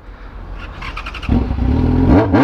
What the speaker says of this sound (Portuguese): Olha o barulho dessa moto